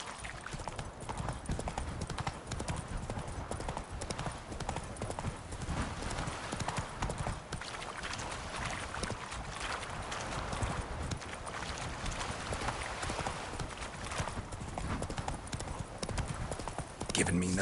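Roach, the horse in The Witcher 3 video game, gallops with a continuous rapid clip-clop of hooves, loud and close, while a voice talks over it.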